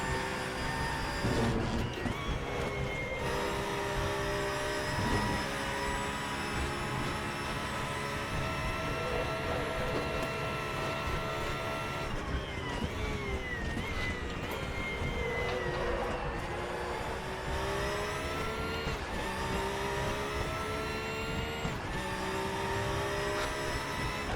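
Racing car engines roar continuously in the RaceRoom sim during a league race, an Audi tucked into the slipstream behind another car, with shifting engine pitch and gear changes throughout and no one talking.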